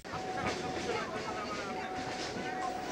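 A Kolkata local train running between Dum Dum and Majerhat near Bagbazar, a steady rumble and rattle of the carriages with a faint high whine, continuous and close throughout.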